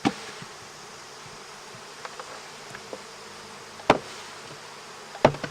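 Honey bees buzz around double nuc hives set up for honey production, with excess bees shaken onto the ground nearby. A steady, dense hum fills the clip, marked by a few sharp knocks.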